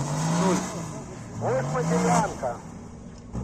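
An off-road car with mud tyres and high clearance works through an obstacle course at a forest challenge, engine revving and rising in pitch, with someone talking over it.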